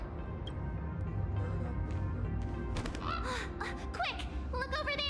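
A bird in the Honkai Star Rail video game gives several bright, warbling, crow-like calls in the second half, over a busy bed of game music and ambience.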